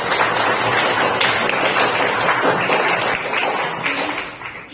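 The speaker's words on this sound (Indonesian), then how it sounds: "tepuk tangan untuk kita semua" A group claps together indoors, a dense, loud patter of many hands that holds steady for several seconds and then tapers off toward the end, with no talking over it.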